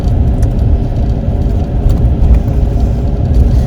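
Loud, steady low rumble of a car rolling along a road near Cotton Lake, Florida, heard from inside with continuous engine and tire drone and no talk.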